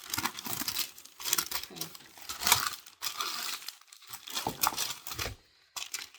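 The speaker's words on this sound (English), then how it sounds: "I am going to have to rip it to be able to open my package." Ripping open the packaging of a Spellbinders Make it Merry craft kit: close, crinkly tearing and crumpling in several bursts with short pauses. A voice briefly says a word.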